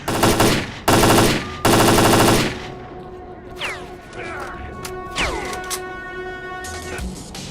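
Gunfire in the 2008 video game S.T.A.L.K.E.R. Clear Sky as a sniper fires from a tower, with three loud sustained bursts near the start followed by ringing metallic echoes and scattered fainter shots.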